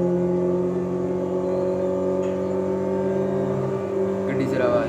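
A Nano car engine in a video game drones steadily at a low, tonal hum, with a slight rise and revving lift near the end, moderately loud throughout with no pauses.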